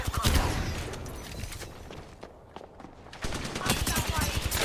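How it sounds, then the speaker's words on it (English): Rapid automatic gunfire in the shooter Apex Legends, with dense clustered bursts near and loud, then a brief lull before a fresh volley, mixed with game voice lines. "Something's shooting at me."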